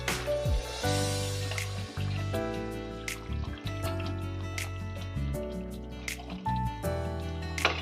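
Kewra water and rose water are poured into biryani rice, making soft liquid drips and trickles under a steady, tuneful background.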